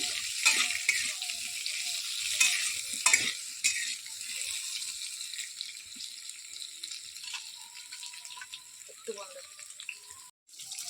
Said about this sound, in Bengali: এবার তেলের মধ্যে দিয়ে দেব পেঁপে, আলু, হালকা করে এটা তেলে ভেজে নেব